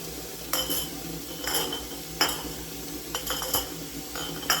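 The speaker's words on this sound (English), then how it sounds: "we'll get our jars put on our rack" Glass canning jars clink and knock as they are set onto a metal canner rack, several separate sharp clinks at an irregular pace, close and clear, with no voices.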